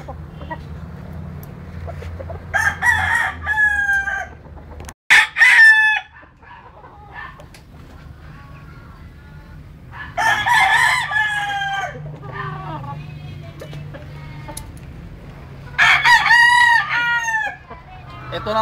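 Gamecock roosters of the Sweater Cobra line crow in several loud, long cock-a-doodle-doo calls spaced through the clip, with a few clucks and low farmyard rumble between them.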